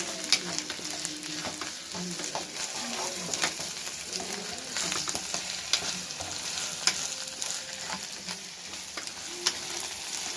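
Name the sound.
ginger paste frying and sizzling in a pan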